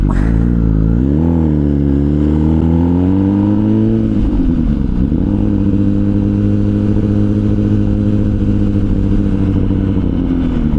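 A warmed-up motorcycle engine rumbles loud and close, revving up and down in pitch before settling into a steady, heavy idle-like drone as the bike pulls away.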